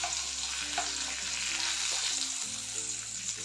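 Pomfret fish frying in a pan hisses with a steady, close sizzle, broken by soft clinks and scrapes as tongs turn the pieces over.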